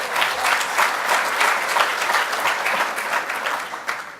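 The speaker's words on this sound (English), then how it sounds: "So let's give him a round of applause." Audience applause greets a newly elected official at a Brightline welcome event in Miami, a steady wash of clapping from a crowd, moderately loud and sustained throughout without a voice over it.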